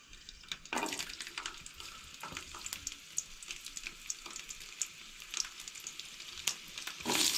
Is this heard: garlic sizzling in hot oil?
yes